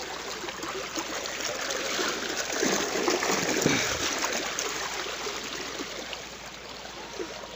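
Irrigation water runs steadily through a furrow in a napier grass field, a continuous trickling and splashing flow with a slight swell in the middle, close by and with no voices.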